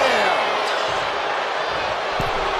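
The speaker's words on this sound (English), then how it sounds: "Omos with an epic Choke slam." Wrestler Omos drives an opponent down with a chokeslam during WWE Monday Night Raw, a single heavy thud in the ring nearly swallowed by a roaring arena crowd, with voices talking over it.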